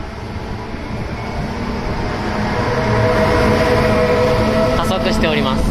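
A train pulls out of a platform at JR Amagasaki station, its steady broadband rumble swelling as it gathers speed. The station ambience stays continuous and fairly loud, with a few brief higher squeals near the end.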